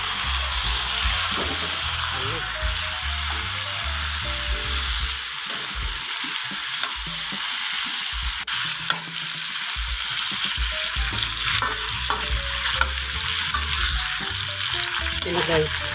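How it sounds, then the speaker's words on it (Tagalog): Beef and pork frying hard in a pan for kaldereta, a dense, continuous sizzle with stirring scrapes, close and loud throughout with no talk. "Pinirito ko beef at pork."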